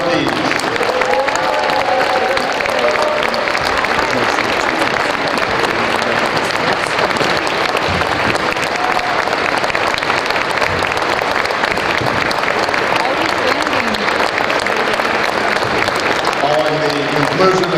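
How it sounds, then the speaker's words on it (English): Sustained applause from a crowd honoring Hall of Fame inductees at a high school basketball event, loud and steady throughout with faint crowd murmur and a few cheers mixed in. "Big round of applause for our"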